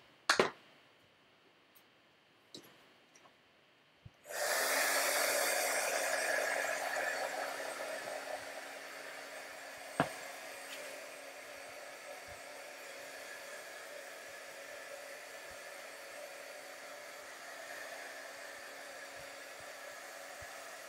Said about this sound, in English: Now I have to dry that.